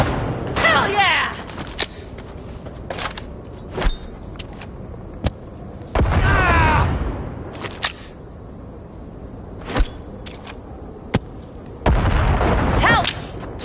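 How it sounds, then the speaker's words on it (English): A grenade goes off in Cyberpunk 2077 amid several loud, booming bursts and sharp cracks spread over the scene, with voices heard between them. "A fucking grenade!"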